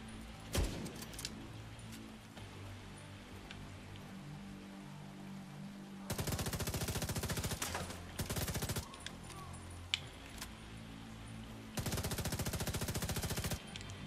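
Sustained automatic gunfire from The Division 2, with long, loud bursts separated by quieter stretches of distant shots and ambient crackle, and a single sharp early shot.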